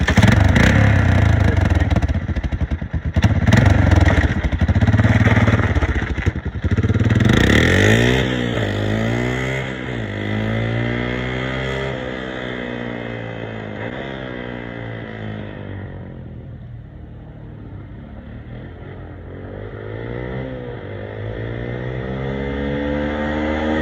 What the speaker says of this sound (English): I'm gonna warm start this thing and see how she fires up